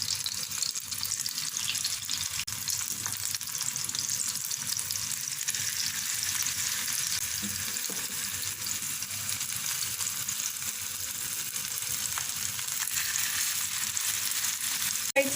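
Seekh kebabs frying in a pan give a continuous, even sizzle and crackle, close and steady throughout, with faint clinks near the end and no talking.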